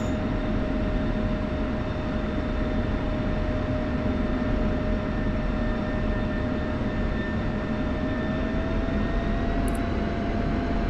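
An F-16 jet taxiing to parking gives off a loud, steady engine whine with a sustained high tone and a broad, even roar throughout, with no voices.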